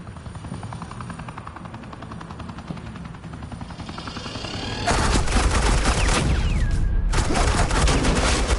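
Suppressing fire from Agent Quinn in the Batman: The Enemy Within game, a loud continuous burst of rapid gunfire that erupts midway over a droning helicopter-like rumble and keeps rattling to the end.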